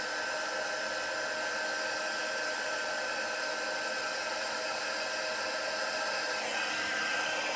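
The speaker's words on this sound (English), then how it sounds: "Warm up your heat tool before you take it to your project." Embossing heat tool warming up, a steady, loud broadband blowing hiss with a faint high whine, continuous and unchanging throughout with no voices.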